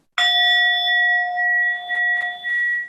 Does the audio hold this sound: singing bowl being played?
yes